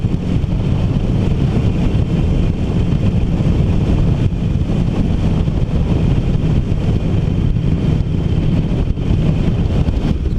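Steady, loud low-pitched drone of a 2019 Harley-Davidson Iron 1200 engine on the move, blended with constant wind roar across the mic and no voices.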